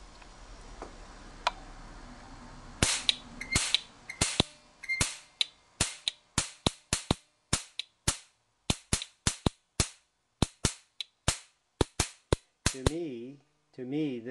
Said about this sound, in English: To me, this spark is much louder than the previous spark